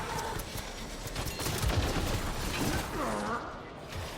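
Rapid automatic gunfire and crackling shots in the Mass Effect: Andromeda multiplayer game, continuous dense bursts with game effects and brief voice sounds underneath.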